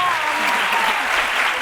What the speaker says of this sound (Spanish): Quería otro aplauso, que son gratis.